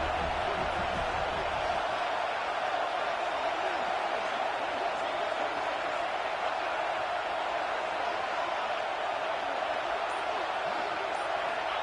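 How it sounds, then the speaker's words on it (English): A stadium crowd in an American football video game roars as a broad, steady, distant wash of noise throughout, with commentary voices faintly mixed in. "This crowd ready to make its presence known."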